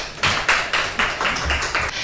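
Sparse, sharp claps sound in a regular rhythm of about one every quarter second from a small audience welcoming a marine ecologist at an ocean lecture in Daegu.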